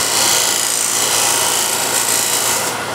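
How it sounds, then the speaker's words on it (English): A scraper works the inside of a turned wooden bowl with a continuous loud, close rasping scrape, steady and unbroken, with no voices. "I'm scraping at center height of the bowl, and I go straight into the corner like this"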